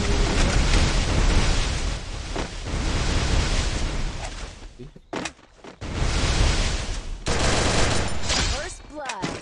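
Heavy sustained gunfire in the mobile battle game Garena Free Fire, loud continuous bursts that break off briefly midway and then resume, with a voice faintly present.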